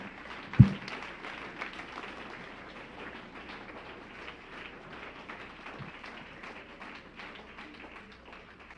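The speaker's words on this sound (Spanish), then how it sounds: "Denle el aplauso al Señor que me desahogué esta mañana." A church congregation applauding during a service, a soft, dense patter of many hands clapping at some distance, opening with one sharp knock and then settling into a steady murmur of claps.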